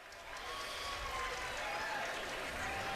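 A crowd at a spring training baseball game between the Rangers and Angels applauds and cheers steadily, a broad continuous wash of clapping that swells after a quiet start and holds through to the end.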